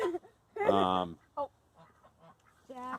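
Poultry calls, loud honking squawks and shorter clucks from molting chickens in separate bursts with quiet gaps between them.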